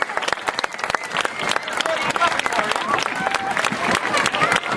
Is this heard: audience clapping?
yes